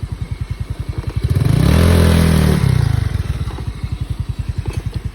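A motorcycle rides over muddy ground on the way to a fishing spot, its engine pulsing in a steady rhythm that swells into a loud, strained rev midway before settling back, close and with no talk over it.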